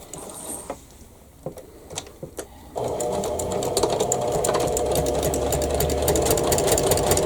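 Sewing machine with a walking foot stitching through quilt layers: a few light clicks and handling sounds, then a steady close mechanical whir of stitching that runs to the end.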